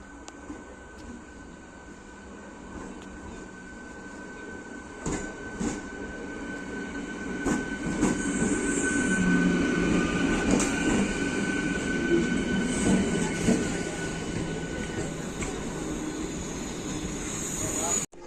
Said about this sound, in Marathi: तुम्ही बघू शकता आमची ट्रेन येत आहे मेमो आहे मेमो